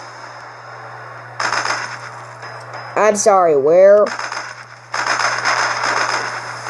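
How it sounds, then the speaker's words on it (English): Gunshots in the video game Battle Islands 3 come as bursts of crackling gunfire and clicks from a distance, separated by pauses, with a brief swooping tonal effect in the middle and someone talking over part of it. "I'm just hearing gunshots."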